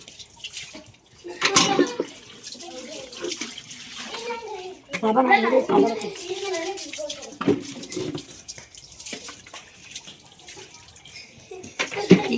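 Water runs from a tap into barrels and other household containers being filled for storage, a soft uneven splashing that goes on beneath people talking.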